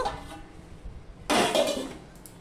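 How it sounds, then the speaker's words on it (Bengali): A lid is set onto a cooking pan of okra (bhendi) curry, making one sharp, close metallic clatter that rings out briefly before fading over a quiet background. "এবার আমি ঢাকা দিয়ে দেব"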